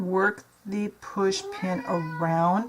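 A cat meows in a room during fiddly dollhouse miniature craft work, the opinionated pet's drawn-out cries rising and falling close by, interleaved with a person talking.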